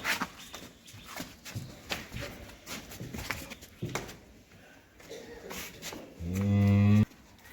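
Cattle low and shuffle nearby amid background noise at a dairy farm in Cumilla, Bangladesh, ending with a loud, sustained moo from a young heifer close by.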